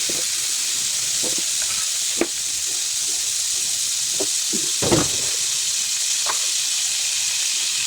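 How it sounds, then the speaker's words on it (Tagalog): Butter sizzling in a hot pan before garlic and onion are sautéed for a potato dish with evaporated milk, a steady broadband hiss with a few soft clinks and stirring taps, close and fairly loud, no talking. "Butter ilalagay ko, ha? Butter ang ipanggisa ko."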